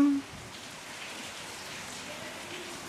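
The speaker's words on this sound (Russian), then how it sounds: "А у нас дождь пошел" Steady rain falling and pattering on a surface, an even hiss that continues throughout after a brief tone at the start.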